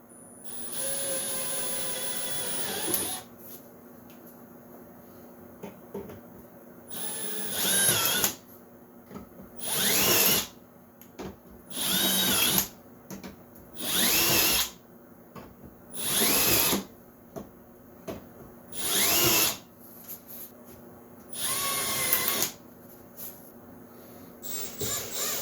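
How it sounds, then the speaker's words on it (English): A power drill countersinks screw holes in wood for a budget DIY router table, sounding as a series of about eight short, loud whining bursts separated by quiet pauses after an initial longer run. "So first let's countersink"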